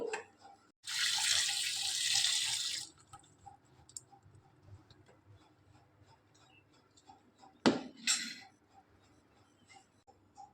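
A kitchen tap gushes for about two seconds while a fire-roasted mango is rinsed to loosen its peel, followed by soft clicks, drips and handling sounds; no speech.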